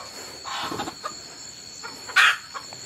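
Chickens clucking in short, scattered calls over a steady background hiss, with one louder, sharper squawk near the end, heard at moderate distance.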